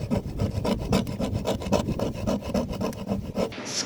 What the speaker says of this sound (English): hand scraping our decks so that it will be ready for paint